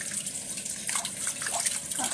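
Water running steadily from a tap while hands are washed, a soft, close trickle and splash under low background noise.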